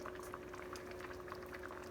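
Water bubbling in a pot of basmati rice, a soft, steady, gentle boil heard close and alone with no breaks.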